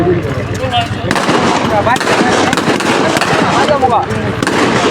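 Gunfire at Ansar weapons training, a dense crackle of rapid shots at a firing range, loud throughout with voices mixed in.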